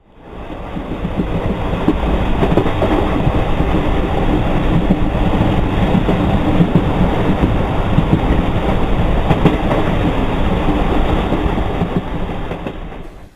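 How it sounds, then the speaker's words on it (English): A passenger train on a Southwestern Railway route in India rumbles steadily along the rails, a loud continuous roar with faint clickety-clack from the wheels throughout. "the train started right on time"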